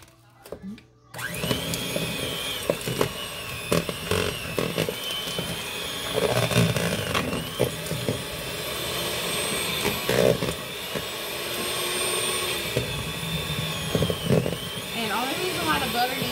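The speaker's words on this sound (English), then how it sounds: "But right now I'm just using this hand mixer." An electric hand mixer whirring continuously at close range, a steady buzzing motor drone with small shifts in pitch as it works through cake batter, with a voice talking over it.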